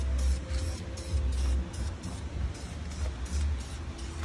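Spray can laying clear coat over a red-painted valve cover from a Mitsubishi Evo X, a steady close hiss with a low rumble running under it throughout.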